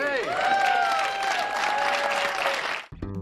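Applause and cheering from a Seinfeld studio audience swell loudly for a few seconds, then cut off abruptly as a brief musical sting plays.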